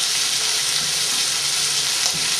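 Turkey and butternut squash sear in a hot pan with a loud, dense, even sizzle close up, steady for the whole brief moment without any voices.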